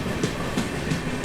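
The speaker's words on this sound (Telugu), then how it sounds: "అది మెయిన్ లైన్ డిపార్చర్ యాక్సలరేషన్ అంటే ఇలా ఉంటుందండి." The 12078 Vijayawada–MGR Chennai Central Jan Shatabdi Express accelerates away on a main-line departure, a dense rolling roar with steady, evenly spaced wheel clacks about three times a second, heard from on board and without talk.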